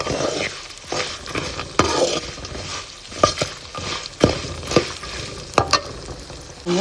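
Tamarind extract goes into hot oil for temple-style puliyodharai and is stirred, producing a lively crackling sizzle with irregular spoon scrapes and knocks against the pan, close and fairly loud.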